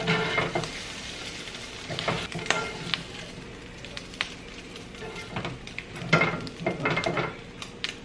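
Eggs frying in oil in a pan for fried rice, a soft steady sizzle with intermittent scrapes and stirring clatters of a utensil against the pan, no voices.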